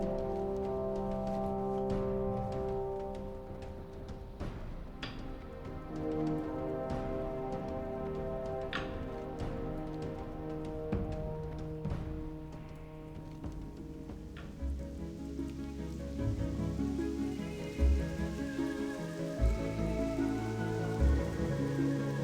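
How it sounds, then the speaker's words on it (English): Steady rain in the video game World of Warcraft patters across the whole stretch with scattered drip-like ticks and a low ambient hum beneath, no talking over it. "it's raining in Ashenvale."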